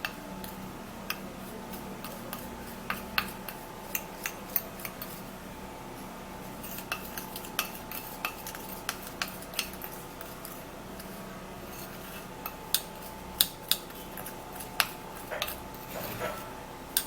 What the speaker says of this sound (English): I'm going to be taking just 2 tablespoons of baking soda into my petroleum jelly bowl, and we're gonna mix it all up